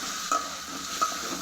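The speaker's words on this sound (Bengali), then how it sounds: "ডিমের সাথে মশলাটা কষানো হলে" Eggs cooking down with spice masala in a pan give a steady soft sizzle, broken twice by a brief utensil scrape or clink.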